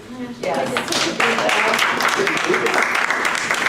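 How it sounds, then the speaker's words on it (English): Applause from the audience at a special board meeting, a burst of clapping starting abruptly and continuing steadily, with voices over it. "Can we get another applause?"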